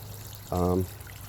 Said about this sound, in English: it's just really peaceful just to like see the fish and hear the water splashing